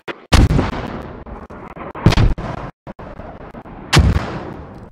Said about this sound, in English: The mortar should hit somewhere right here actually.